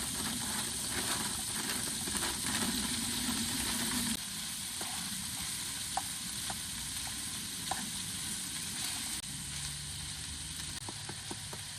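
Sausage and potatoes O'Brien with onions and peppers fry in a pan at a winter ice-fishing camp, giving a steady, moderate sizzle with faint scraping and clicks throughout.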